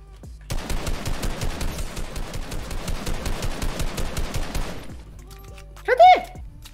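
Fortnite gunfire: a long rapid automatic burst of close, loud, evenly spaced shots for about four seconds, then silence and a brief voice speaking.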